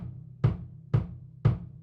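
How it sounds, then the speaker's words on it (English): Three evenly spaced deep bass drum kicks played with a foot pedal, close and punchy, each a short low thump. "I have foot pedals down here so I can play the bass drum with my feet."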